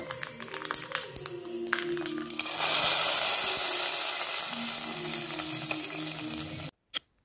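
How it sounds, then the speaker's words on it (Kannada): Mustard seeds, cumin and dried red chilies crackling and sizzling in hot oil as a tempering for avarekalu sambar, close and bright with scattered pops, swelling into a louder steady hiss before cutting off abruptly. "ಸಾಸಿವೆ ಜೀರಿಗೆ ಹಾಗೂ ಒಣಮೆಣಸಿನ್ಕಾಯಿ ಹಾಕಿ ಒಗ್ಗರಣೆ ಹಾಕಿ ಕುಕ್ಕರ್ಗೆ ಸೇರಿಸ್ತಾ ಇದ್ದೀನಿ"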